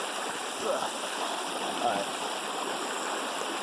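An upper mountain stream on Oahu flows with a steady, broad rush of water. The sound stays constant and close for the whole stretch, and a voice speaks briefly over it.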